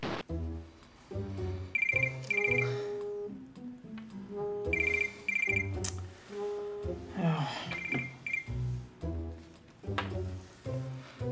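A telephone rings loudly in repeated electronic trills with short pauses between them during a Slovenian comedy sketch, with music and background sound around the rings.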